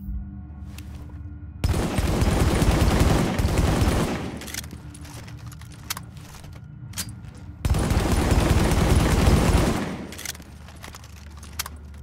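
M1A marksman rifle from The Division, fired without stability mods, sounds in two loud sustained bursts of rapid gunfire, each about two seconds long, separated by quieter game ambience.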